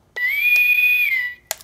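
A sustained electronic whistle tone from a Star Trek wall alarm holds steady for about a second, bracketed by short clicks, loud and close with nothing else around it.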